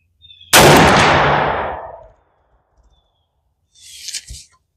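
A Savage Axis II Pro 400 Legend rifle fires one loud, close shot whose sharp crack rings out and decays over about a second and a half, followed later by a fainter clanking thud.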